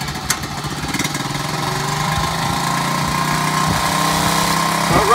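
A 1978 Honda Z50A mini trail bike's small single-cylinder engine catches and runs with the choke on, a close, steady buzzing idle with a faint rhythmic pulse and a slight rise near the end.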